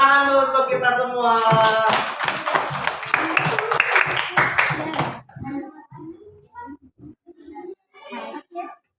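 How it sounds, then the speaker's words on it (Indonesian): A classroom group claps hands together under loud voices for about five seconds, with quick bright hand slaps. Then the clapping stops and only scattered talk remains. "Tepuk tangan dulu untuk kita semua."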